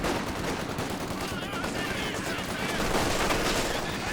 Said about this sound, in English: Axis with these heavy machine guns working well at the moment